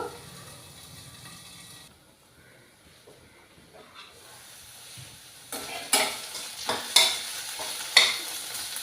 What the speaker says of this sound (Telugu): ఆ దొండకాయ ముక్కలు వేగినంత వరకు వేయించుకోవాలి మధ్య మధ్యలో కలుపుతూ ఉంటూ